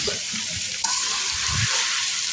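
Half a kilo of meat sizzles in a hot pan as it is stirred, a steady hissing fry with a sharp scrape or clatter of the spoon partway through and soft bubbling underneath.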